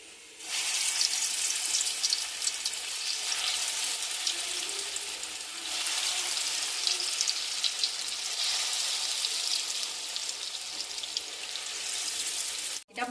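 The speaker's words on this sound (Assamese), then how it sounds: "মই এখন কেৰাহীত তেল গৰম কৰিছোঁ। মই এতিয়া বৰকেইটা ভাজি ল'ম।" Bora fritters frying in hot oil in a wok, a continuous bright hiss and crackle that runs steadily for the whole stretch with no talking.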